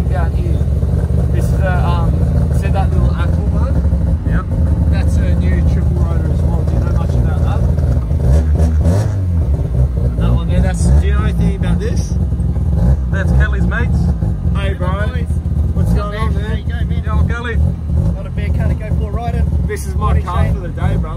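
A car with a new triple-rotor rotary engine at a rotary car reunion idles and revs loudly and continuously, the close engine drone running under people talking throughout.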